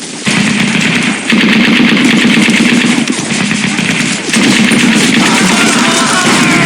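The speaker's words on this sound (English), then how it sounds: "Get back on that machine gun!" Sustained machine gun fire rattles loudly in the World War II shooter Brothers in Arms: Road to Hill 30, in dense continuous bursts with brief pauses between them.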